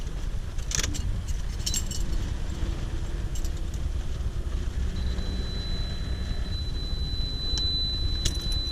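R32 GTR keychain keys jangle in a few brief metallic bursts, close up, over a constant low car-cabin rumble, with no one talking.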